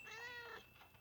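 A single cat meows close by, a short clear tonal cry with harmonic wavering, over quiet background hiss and no talk.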